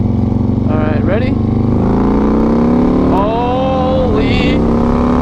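A Harley-Davidson Twin Cam 120R motorcycle engine pulls steadily under throttle, a loud, continuous close-up rumble with rising and falling pitch as it accelerates, while a person talks over it.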